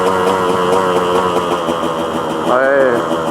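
A KTM 125 EXC two-stroke motorcycle engine drones steadily on the road, close and loud, with a rising rev near the end, while a rider talks over it.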